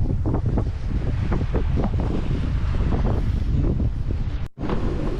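Strong wind roars across the microphone aboard a small boat alone on the Pacific, with large ocean waves surging and crashing in repeated bursts; no voices, and a brief dropout near the end.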